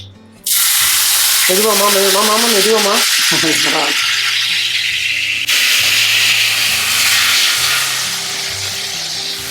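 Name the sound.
tomatoes sautéing in a pan for anchovy curry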